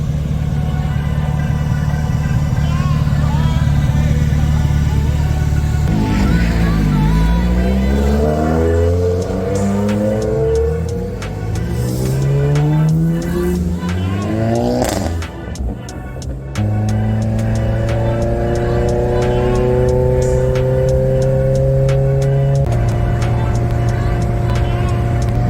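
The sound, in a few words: car driving off onto the road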